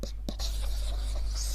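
A battery-free stylus scratches steadily across the textured glass of a Huion Kamvas 13 Gen 3 pen display, a close, continuous paper-like drawing hiss with a brief pause near the start.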